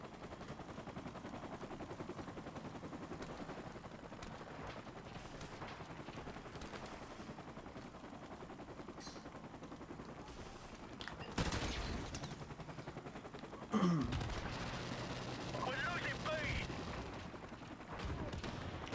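Gunfire in Call of Duty: Modern Warfare Remastered, a steady crackle of distant automatic and single shots over a low rumbling background, with a couple of louder nearby bursts and players talking throughout.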